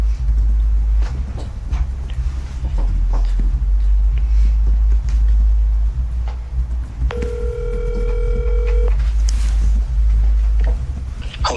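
A phone call being placed during a committee meeting: a handset beeps through a short tone sequence over a steady low background hum, with faint clicks and no talking.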